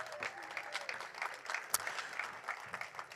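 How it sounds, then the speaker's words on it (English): An audience at a central Oregon pub talk applauds after a company pitch, a steady patter of many hands clapping at moderate loudness, filling the room without voices. "Round of applause."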